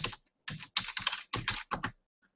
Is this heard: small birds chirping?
no